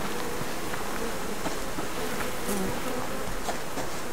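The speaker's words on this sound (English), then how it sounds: "One of these trees here, yeah, right there. It's got a beehive." Bees buzz steadily around a beehive in a tree in the survival game Subsistence, a continuous droning hum with a few louder passes as individual insects fly near, and no voices.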